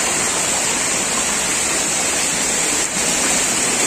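A stream rushes in a steady, loud, broad hiss of flowing water heard close by, constant and unbroken for several seconds without any talking.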